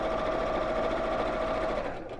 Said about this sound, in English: Right, so I'll chain stitch these together